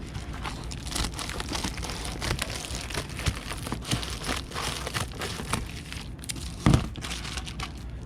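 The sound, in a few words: cutting excess packaging material for a parcel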